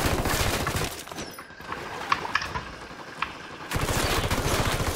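Gunfire and fighting sounds from the video game Ghost Recon Wildlands during a Caimanes mission: a loud, dense burst of shots at the start and end, with sparse sharp cracks and clicks in a quieter stretch between.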